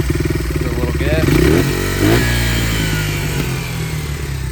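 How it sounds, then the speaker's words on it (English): A Honda XR80 motorcycle engine running off choke rises to a rev and settles back, loud and close, with a person talking over it. "This is off choke. Give it a little gas."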